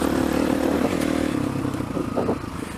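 Kickstart-only motorcycle ridden in third gear, its engine producing a steady close, loud drone with some clatter and slight rises and falls in pitch throughout.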